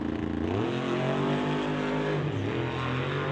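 Outlaw 275 drag racing car at full throttle on a racetrack, a loud, steady engine roar with rising and falling harmonics as it wheelies up and goes sideways, close and continuous throughout.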